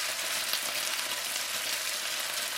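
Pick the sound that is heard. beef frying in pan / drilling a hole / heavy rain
beef frying in pan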